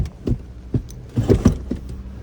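A key turns in an old car's ignition, bringing a few low clicks and knocks and a brief cluster of mechanical thuds, close and fairly loud, with no engine catching.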